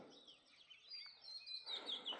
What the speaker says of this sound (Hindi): ये देखिए पपीहा बोल रहा है